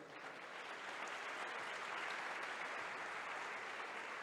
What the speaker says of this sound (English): if you can give them another applause